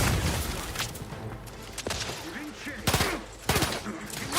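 Enemy grenades exploding in The Outer Worlds 2, several sharp booming blasts spread across the moment amid gunfire and combat noise, with a voice talking over parts of it.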